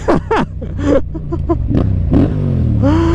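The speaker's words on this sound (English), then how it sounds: "Listen to that soundtrack. Man, it sounds like a Harley Davidson." A new motorcycle engine, said to resemble a Harley-Davidson, is revved in short loud bursts, each rising and falling, then settles into a rumbling idle before one last sweeping rev, close and dominant.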